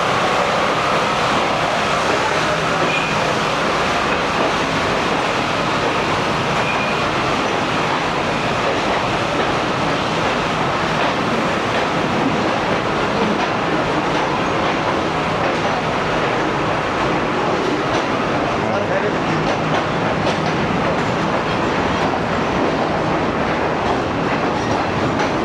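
A moving passenger train, the Eid Special Greenline economy-class service from Rohri to Lahore, roars steadily from inside a carriage, with continuous loud rumble and faint clickety-clack throughout.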